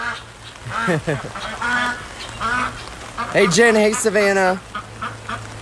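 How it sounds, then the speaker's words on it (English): Pekin ducks quack in short repeated bursts outdoors in rainy weather in Virginia Beach, the calls fairly close and mixed with a person greeting someone over them. "So this one's just doing the quack, quack, quack, quack"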